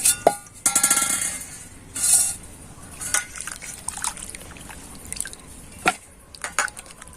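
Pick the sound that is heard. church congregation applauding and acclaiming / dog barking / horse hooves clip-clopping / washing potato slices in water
washing potato slices in water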